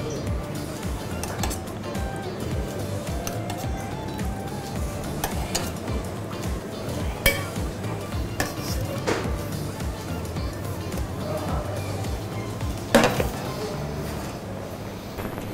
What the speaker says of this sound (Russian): Обжариваем лук на сливочном масле